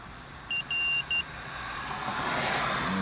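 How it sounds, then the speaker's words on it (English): Three short electronic beeps in quick succession, the middle one longer, sounding clearly over a low, steady background rumble that gradually grows louder afterward. "Waiting for that beep."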